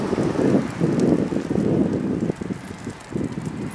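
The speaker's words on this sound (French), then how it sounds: "Désolé pour le vent." Wind buffets a microphone outdoors on a walk, a steady low rumbling roar that swells and dips for a few seconds with no one speaking.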